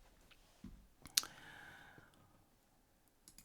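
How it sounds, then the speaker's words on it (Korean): A single mouse click on an installer's Finish button, one sharp close tick followed by a brief soft tail, alone with no talking. "설치가 완료되었으면 여기 바로 실행하지 마시고 그냥 바로 피니시 버튼만"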